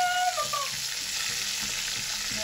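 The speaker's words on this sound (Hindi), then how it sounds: "यहाँ पे तेल और घी में बन रहा है खाना" Chicken fries in hot oil and ghee with a dense, steady sizzle that stays loud and close throughout, broken by soft rhythmic scrapes of stirring.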